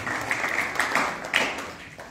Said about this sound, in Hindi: एक दफा जोरदार तालियां उन तमाम के लिए जिन्होंने बच्चों की